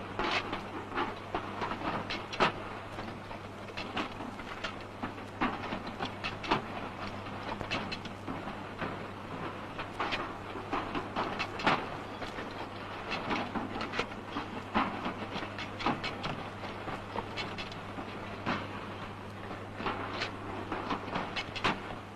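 A 1920s tin-can squeezer machine joins tops and bottoms onto tin bodies, making a continuous rattling, clattering mechanical din with a steady low hum beneath, loud and unbroken throughout.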